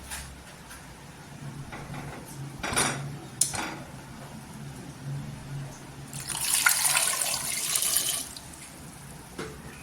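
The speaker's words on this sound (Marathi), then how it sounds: "इथे एक ते दोन पाण्याने स्वच्छ धुवून घ्यायचे आहेत बटाटे" Potatoes are washed in water under a kitchen tap for batata vada, with short splashing bursts and then a longer run of flowing water, all fairly close.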